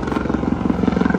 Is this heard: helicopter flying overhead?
yes